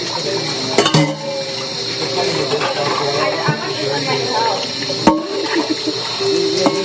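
Water runs steadily from a kitchen faucet while a pan is washed in the sink, with occasional clinks of dishes and utensils and people talking over the flow.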